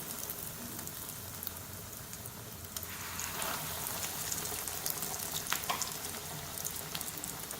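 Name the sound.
veggie burger patties shallow frying in a pan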